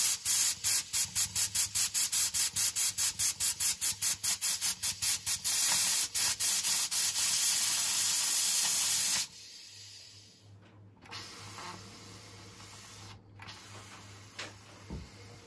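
Pressure cooker releasing steam after boiling popping corn, a loud rapid rhythmic hissing puff from the valve for about nine seconds, then a quieter continuous steam hiss with a couple of brief bursts.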